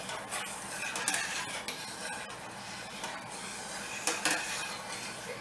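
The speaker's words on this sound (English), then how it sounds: "Just give it a quick stir." Soft scraping and clinking of a utensil stirring macaroni in a pot of boiling water, irregular strokes with a couple of louder knocks, no voices.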